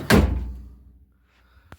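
A single solid thunk comes from a car door pushed shut on a vehicle under restoration in a workshop, loud and close, then dies away, followed by a faint small click.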